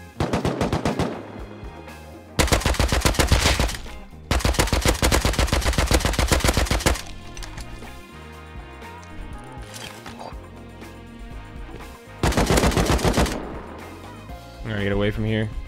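Gunfire during a raid in Rust: long, loud bursts of rapid automatic fire come in separate waves with short pauses between them, close and heavy, with a voice talking in the quieter gaps.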